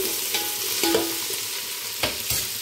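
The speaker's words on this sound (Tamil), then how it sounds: "வெங்காயம் வதங்கிட்டுருக்கு." Onions sautéing in a pan for sambar, a steady close sizzle broken by a few spatula scrapes and clinks against the pan; no one speaks.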